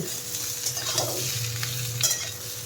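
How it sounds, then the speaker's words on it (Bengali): Vegetables fry in a pan for a milky shukto, a steady soft sizzle with a few scraping stirs of a spoon, close and continuous with no talking. "সবজিগুলো অনেকটা ভাজা হয়ে গেছে"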